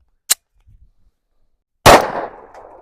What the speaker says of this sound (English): We're going to test some hollow point ammunition.